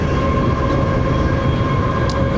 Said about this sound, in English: now we're on the train